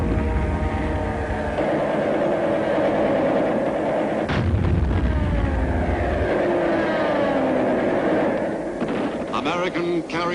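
American carrier-based aircraft at the Battle of Midway roar amid heavy gunfire and blasts, a loud, dense wartime din with engine drones rising and falling over about ten seconds.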